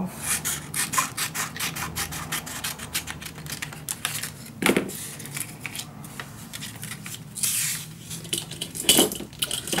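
A homemade secret storage book being cut, giving a run of close, dry scraping and snipping strokes in a steady rhythm, with a few sharper louder cuts near the middle and end and no talking.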